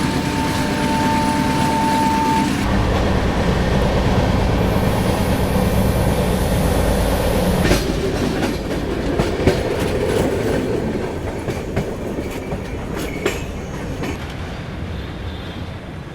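Gatimaan Express running at about 160 km/h, heard from inside an AC chair car: a steady, loud rolling roar of wheels on rail with occasional sharp clacks and a faint tone that cuts out early, no voices.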